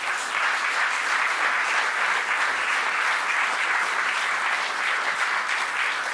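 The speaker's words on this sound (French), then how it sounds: "je vous demande d'applaudir Clémence Godin à la contrebasse," A concert audience claps in sustained, even applause for jazz trio musicians, dense and continuous throughout.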